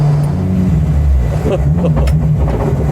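A 1989 Nissan Silvia S13 street-legal drift car runs with a loud, steady low engine drone close by, while people talk over it.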